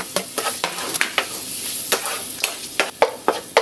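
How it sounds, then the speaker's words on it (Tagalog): Garlic, onion and hotdog sauté in a hot pan, a steady loud sizzle broken by repeated scraping stirs of a spatula, close up with no talking. "pwede na tayong maggisa. Bawang sibuyas. Sabay ko na rin tong ating hotdog."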